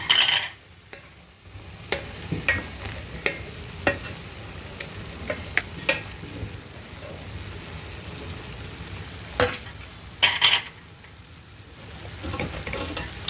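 Ivy gourd fry being stirred in AMC cookware, with scraping and clinking of a utensil against the pan at irregular intervals over a soft steady sizzle, a few louder knocks standing out near the end.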